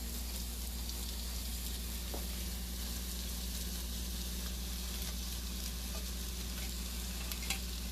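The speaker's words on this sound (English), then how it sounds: "now I'm just going to put all the flattened rice" Flattened rice (poha) tipped into a pan on the stove, giving a steady soft sizzle and stirring rustle throughout with no clear talk over it.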